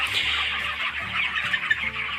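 Three-week-old broiler chickens on a poultry farm, a dense, continuous chorus of many birds chirping and clucking at once, close and fairly loud, with no talking.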